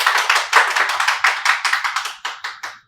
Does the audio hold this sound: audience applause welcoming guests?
yes